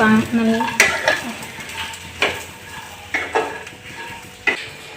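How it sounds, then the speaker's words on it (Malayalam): Utensil scraping and stirring as grated coconut and curry leaves roast in a hot pan, a soft sizzle underneath, sharp clinks recurring every second or so; no talking. "ഇപ്പൊ നമ്മൾ തേങ്ങ വറുത്തു, പിന്നെ കറിവേപ്പിലയും വറുത്തു."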